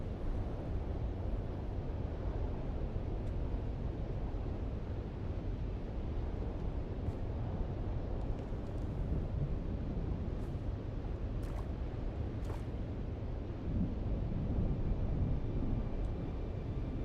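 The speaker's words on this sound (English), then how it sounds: "Sector weather alert. A large sandstorm is approaching." Sandstorm wind in the video game Dune: Awakening, a steady low roaring rumble that holds at an even level throughout with no talk.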